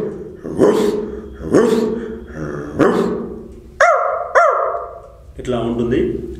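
A voice imitates a big breed dog barking, giving a series of loud, close, deep barks with pauses between them, some rising into higher yelping calls.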